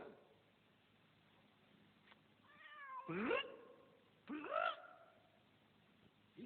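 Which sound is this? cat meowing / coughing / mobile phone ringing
cat meowing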